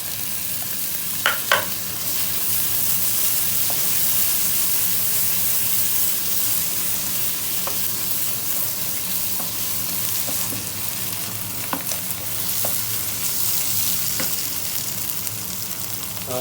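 Garlic ginger paste sizzles steadily in a pan with already-fried onions and tomatoes for a restaurant-style anda chanay curry, a continuous close frying hiss with a few sharp stirring clinks and no talking.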